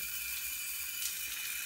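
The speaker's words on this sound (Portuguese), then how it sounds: "Tá escorrendo um pouquinho de água, mas olha só a pressão de água que ela joga." Water from a hose feeding an Einhell wet-cutting marble saw runs in a steady, soft hiss, a continuous trickle at low level with no voices over it.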